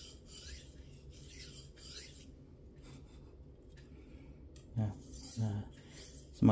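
A Victorinox knife is stroked across a Black Shark natural whetstone, giving soft repeated rasping scrapes at close range with a few louder knocks of handling toward the end.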